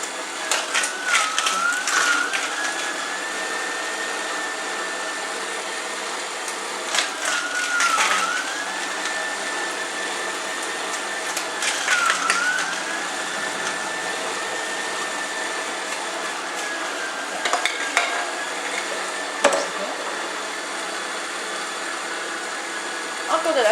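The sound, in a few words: Moulinex Infiny Press Revolution juicer pressing apple and carrot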